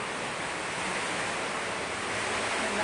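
Strong wind from Typhoon Tino roaring outdoors as a dense, unbroken rush of broadband noise, steady and fairly loud, with no voices.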